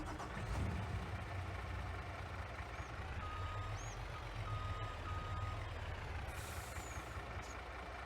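A backing vehicle's reversing alarm beeps steadily in Farming Simulator 22 over a low, idling truck engine rumble, the beeps clear and evenly spaced throughout.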